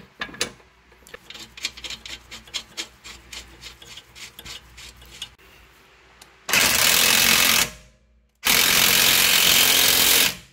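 A power tool drives the mounting bolts on a KYB rear strut for a Toyota Camry. Rattling, scraping handling sounds come first, then two loud, sustained roaring bursts of the tool with a short gap between them.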